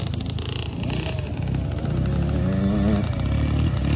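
A 65cc dirt bike engine revs loudly and close by, its buzzing note wavering as it climbs and drops through downshifts, sustained and raspy throughout.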